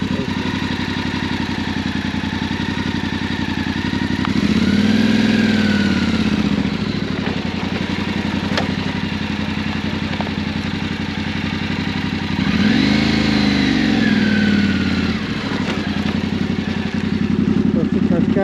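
A motorcycle on an off-road trip in Scandinavia idles with a steady loud engine drone, swelling twice into revs that rise and fall, while a person speaks over it.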